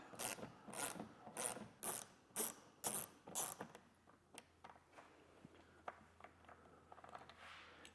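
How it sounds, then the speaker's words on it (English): A ratchet clicks in quick, loud repeated bursts while T15 Torx bolts are backed out of a center panel on a 2024 Cadillac XT6, then fades to softer scattered clicks and handling noises. "there's two T15 Torx bits that we'll pull out at the very front edge of that"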